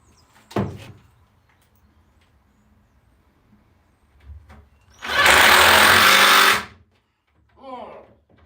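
Pocket hole screws driven into wooden boards with a power drill: a sharp knock, then one loud sustained whirring burst of about a second and a half, followed by a short fainter mechanical whine.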